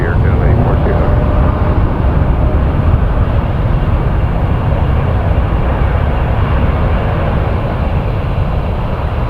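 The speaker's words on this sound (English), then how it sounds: "Wing flex. 778 Dreamliner to Amsterdam." A Boeing 787 Dreamliner jet departs Toronto Pearson for Amsterdam, a loud continuous roar of engines that holds steady throughout.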